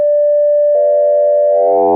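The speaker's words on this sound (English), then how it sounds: "this is what through 0 FM is supposed to sound like" A steady pure sine tone from a Joranalogue Collide 4 synthesizer module suddenly thickens under through-zero FM into a buzzing, metallic timbre that grows richer with clanging overtones, loud and continuous.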